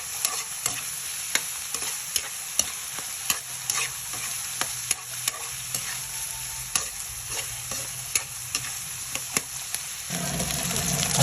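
Chili sautéing in a pan for ginataang laing gives a constant frying sizzle, punctuated by regular, sharp spatula taps and scrapes roughly every half second, with a louder, denser burst of frying near the end.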